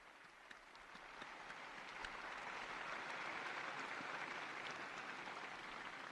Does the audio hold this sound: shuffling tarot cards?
no